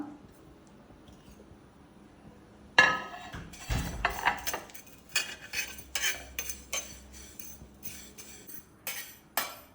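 Utensils clink and scrape against a pan in quick, irregular strokes as fenugreek, cloves and curry leaves are roasted, stirred and tossed, close and fairly loud, with no talking.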